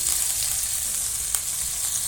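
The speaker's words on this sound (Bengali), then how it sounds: "প্রথমে পনিরগুলো ভেজে নেব তাই অল্প একটু তেল গরম করে নিলাম" Thin paneer strips fry in a little hot oil, giving a steady, close hiss and sizzle that runs unbroken throughout with no voices.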